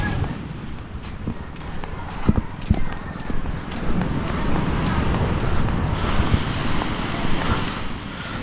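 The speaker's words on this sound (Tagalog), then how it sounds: "Grabe lakas ng alon." Strong sea waves roar continuously along a shore with moored boats, a steady wash of surf mixed with gusty wind buffeting the microphone, with a few brief louder bumps.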